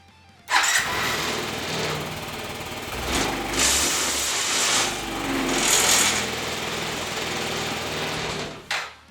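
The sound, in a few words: Yamaha C3 scooter engine starting up and running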